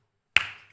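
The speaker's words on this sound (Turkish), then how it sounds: "Neden öyle bana bakıp öyle alkış tuttun?" A single sharp clap rings out once after silence during a family game show, a crisp bright smack with a short decaying tail.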